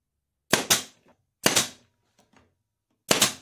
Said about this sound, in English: I'm just going to put some glue in there and fire in a few shorter brad nails.